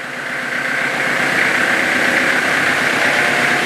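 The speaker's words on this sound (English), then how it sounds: "If we increase the engine RPM," A Kubota tractor engine drones steadily at an even, loud pitch with a slight rise in intensity as RPM increases, no sharp rev spike, and no voices.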